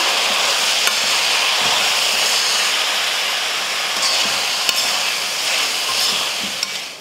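Chicken curry with potato being stirred in a pot, a steady broad hiss and sizzle running throughout with a few faint scrapes and knocks, close and loud.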